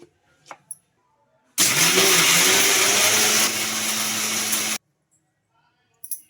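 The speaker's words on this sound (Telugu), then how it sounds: "మిక్సీ జార్కి అయితే గ్రైండ్ చేసుకుందాం" A mixer grinder blends coriander chutney in its jar, a loud steady whirring roar that starts abruptly, runs for about three seconds with a slight shift midway, then cuts off, surrounded by quiet handling clicks.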